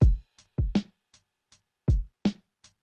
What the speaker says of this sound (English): so the drums on its own sound like this